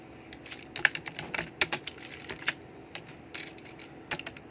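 Fingers tap on a computer keyboard, producing irregular clusters of crisp, light keystrokes close to the microphone over a quiet room background.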